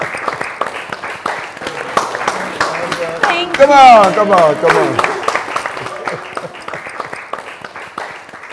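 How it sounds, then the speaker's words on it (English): An audience clapping for a lady at a celebration, a dense, continuous round of applause with sharp hand claps throughout, while voices talk and cheer over it near the middle. "let's clap for the lady"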